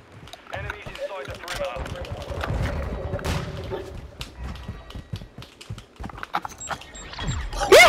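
Gunfire in Call of Duty: Modern Warfare II ranked play, a string of sharp shots and bursts scattered through a busy battle mix, sounding under excited voices talking over it.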